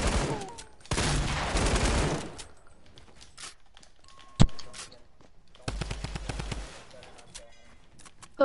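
Gunfire in the video game Fortnite, two bursts of rapid automatic shots and a single sharp crack between them, close and fairly loud, with brief quieter gaps and faint talk in places.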